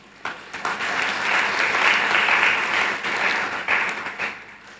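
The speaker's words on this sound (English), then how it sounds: "I think that deserves some applause." An audience at a community college graduation ceremony breaks into steady applause, many hands clapping together in a dense, sustained wash that swells and fades over a few seconds.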